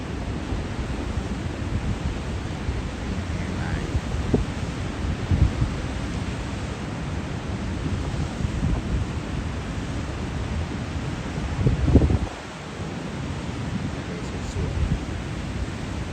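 A steady broad roar of surf washes on continuously, with a louder surge near the end before settling back.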